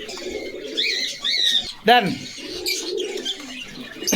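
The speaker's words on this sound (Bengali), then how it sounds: "এটা হলো আপলোক কবুতর" Pigeons coo and chirp at a bustling pigeon market in Bogura, with rolling low coos and a sharp call near the middle, mixed with traders' voices close by.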